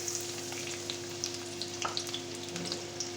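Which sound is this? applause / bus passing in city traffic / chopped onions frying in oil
chopped onions frying in oil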